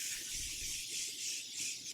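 Morphe setting spray mists onto a face in one continuous, close, soft hiss that lasts about two seconds and ends abruptly. No voices are heard.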